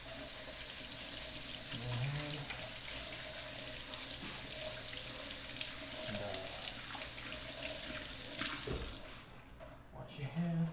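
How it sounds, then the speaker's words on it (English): A kitchen tap runs steadily as hands are washed with soap, a continuous splashing water stream close by with brief clatters and movement, with a voice talking faintly in places. "Wash your hands."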